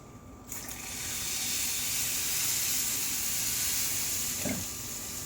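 Water poured into a pan with beef broth and red wine for braised short ribs, a steady close hissing gush that starts abruptly and runs for several seconds before easing off.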